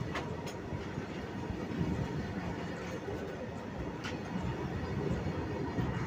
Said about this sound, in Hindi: अभी ये वाला ट्रेन बहुत लंबा है, ट्रेन मतलब बहुत लंबा है, ये खाली ट्रेन जा रहा है